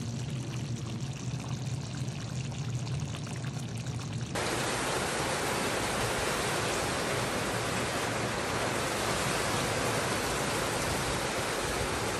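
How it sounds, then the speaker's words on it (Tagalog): Rain falls steadily, starting lighter and suddenly swelling into a loud, dense downpour that continues to the end. "Umuulan guys."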